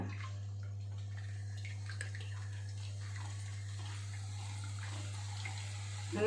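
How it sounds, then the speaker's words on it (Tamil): Boondi batter drops into hot oil for Diwali kara boondi, giving a faint, steady sizzle with scattered crackles over a constant low stove hum throughout. "இப்போ நம்ம பூந்தி பொரித்து எடுத்துலாம்"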